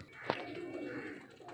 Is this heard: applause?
no